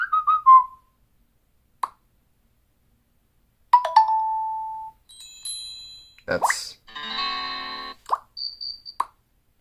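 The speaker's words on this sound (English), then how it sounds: "Notification sounds." Several distinct notification tones from a Redmi K30 Ultra phone play through its stereo speakers, one after another: chimes, pops and a buzzy trill separated by short pauses, loud and close, with a brief spoken word.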